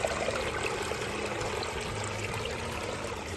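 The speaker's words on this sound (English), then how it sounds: "Little Pondless Waterfall turned out real pretty." Water trickles steadily over stones in a small backyard pondless waterfall, a continuous close, moderately loud splashing flow with no voices.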